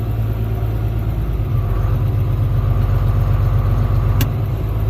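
Tractor engine rumbling steadily at low speed while being maneuvered close to a wagon and other farm equipment on a farm, a continuous deep loud drone with no speech.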